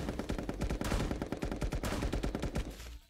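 A submachine gun fires rapid full-auto bursts in the video game Pummel Party, loud and close, a dense stream of shots that stops abruptly at the end.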